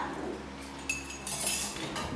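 A metal spoon clinks against dishes as it is handled while a table is being set, giving a couple of bright, close clinks over a low background hum.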